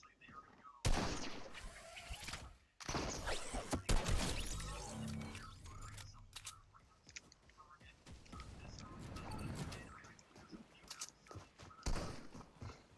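Gunfire in a video game fires in loud, ragged bursts and single shots to bring a target down, mixed with footsteps and quick, excited talk from players.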